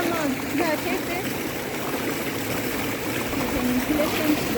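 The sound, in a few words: water of Wah Kaba waterfall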